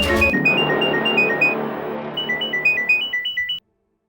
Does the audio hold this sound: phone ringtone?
yes